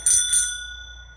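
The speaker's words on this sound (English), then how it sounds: "A bicycle bell." Two quick rings of a bicycle bell on a klunker bike, bright and close, with the metallic tone lingering and fading out afterward.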